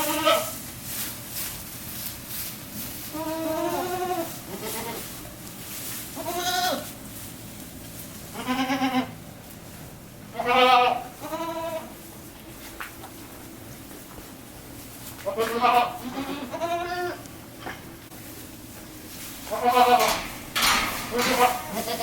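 Goats in a barn bleat repeatedly over about twenty seconds, several loud, close calls coming in irregular bursts with short quiet gaps, against a soft background hum.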